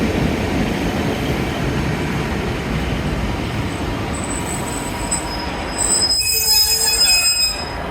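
A loud, continuous rumble of a train passing through a station crossover in Dawlish, with high-pitched wheel squeals rising near the end.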